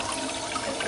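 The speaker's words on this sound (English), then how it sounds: "5 gallon water wasting flush" A 5-gallon toilet in a dirty hotel bathroom flushes with a brief, loud, steady rush of water.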